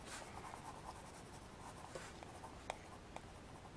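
A pencil moves across lightly toothed drawing paper while stamped forest landscape art is touched up. Soft, very quiet scratchy strokes continue throughout, with a few sharper taps.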